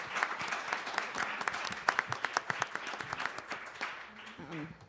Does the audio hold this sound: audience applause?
yes